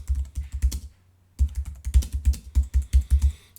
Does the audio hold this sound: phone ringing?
no